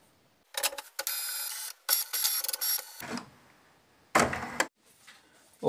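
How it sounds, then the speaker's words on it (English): A printer prints a paper template for an exhaust pipe expansion chamber, giving bursts of mechanical whirring and clicking separated by brief pauses, close and fairly loud, with no voices. "And off it goes to the printer."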